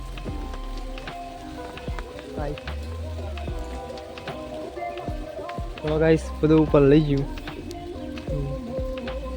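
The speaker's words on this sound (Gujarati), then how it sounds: "હવે વરસાદ આવે છે" Rain falls on farm fields, a steady hiss and patter running for the whole stretch while someone talks over it.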